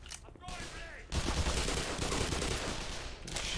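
Gunfire during a firefight with soldiers in Black Mesa 1.0. After a brief quieter lead-in, a dense, continuous fusillade of close, loud automatic shots starts and keeps going.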